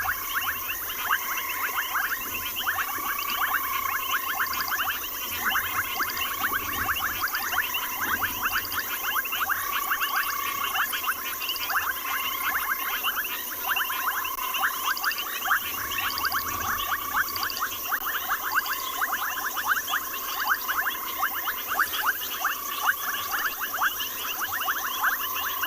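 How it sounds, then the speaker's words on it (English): Loud, dense chorus of frogs calling on an evening South African safari, a continuous pulsing trill with rapid repeated notes that never lets up and no voices heard. "A lot of you are commenting on how loud the frogs are."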